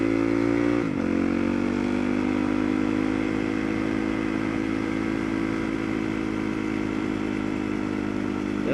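A dual sport motorcycle's engine drones loudly and steadily while riding, with a quick dip and recovery in pitch near the start and then a constant rumble.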